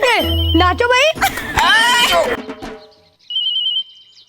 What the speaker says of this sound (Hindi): फोन उठा मेहर। मेहदी, तुम्हारी जान का फोन है।